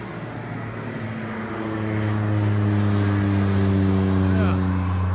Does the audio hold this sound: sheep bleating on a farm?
no